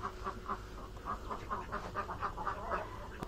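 Domestic ducks on a village farm quack repeatedly in a steady, chattering run of calls, fairly close and clear, with no talk over them.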